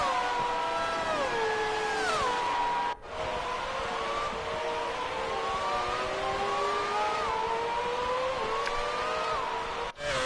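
McLaren Formula 1 car in F1 2018 screams at high revs, its engine note climbing and dropping through repeated gear shifts, with two brief cuts near three and ten seconds. Loud and close throughout, no talking.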